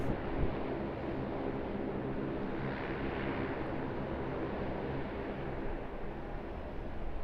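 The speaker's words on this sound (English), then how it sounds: "Our QANTAS Dreamliner off to Paris Charles de Gaulle via Perth" A Qantas Dreamliner jet departs Sydney Airport bound for Perth, its engines a steady, broad roar that fills the air without letup, heard from a distance with faint wind over the microphone.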